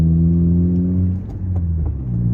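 A car's engine hums low and steady during a driving lesson as the clutch is eased to its biting point and gas is applied, with a slight dip and recovery in tone partway through; no one speaks.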